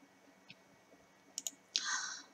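Mouse clicks on a computer's File menu in Windows Notepad: a few sharp, quiet clicks spaced apart, then a brief brighter burst near the end, with no talking.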